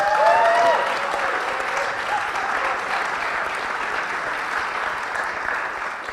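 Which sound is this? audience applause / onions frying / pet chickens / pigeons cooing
audience applause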